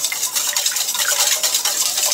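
Hoe cake batter with whole kernel corn being stirred in a bowl, a steady wet scraping and swishing with rhythmic strokes, close and fairly loud, no voices.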